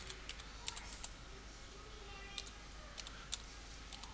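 Computer keyboard typing while setting up a database, sparse light key clicks in small clusters, faint and close, with no talk.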